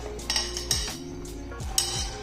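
Oiled green chilies set into a disposable plastic box lined with tissue paper, giving a few close, light clinks and knocks, the loudest near the start and again toward the end.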